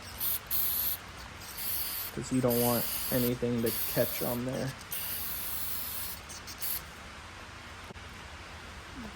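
Short hissing bursts of silicone lubricant aerosol spray during work on a Mitsubishi Expo engine bay, with a person speaking over the middle of the clip and more spray afterward.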